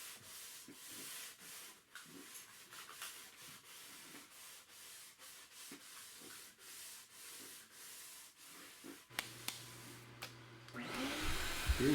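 Someone sands a cherry wood fireplace mantel, a soft, steady rubbing rasp in repeated strokes with a faint machine hum beneath, ending in a louder burst of noise.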